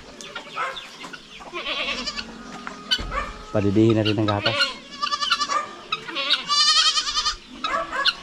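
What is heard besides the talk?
goats bleating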